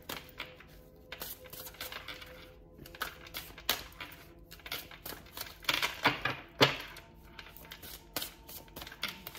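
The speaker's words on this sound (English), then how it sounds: "I'm told to keep shuffling." Tarot cards are shuffled by hand close up, in quiet irregular flutters and riffles with sharper snaps now and then, alone with no talking.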